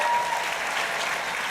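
An audience applauds and cheers an election result during a live panel on 2018 midterm outcomes, with dense, steady clapping that starts loud and holds throughout, broad and close.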